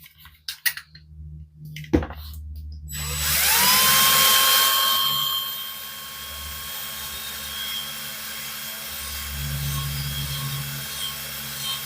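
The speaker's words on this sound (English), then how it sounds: "We'll get them drilled out." A drill bores out the rivets on a vintage diecast Corgi ERF toy truck, starting after a few clicks and sharp knocks, then settling into a loud, sustained high-pitched whine with a steady motor hum underneath.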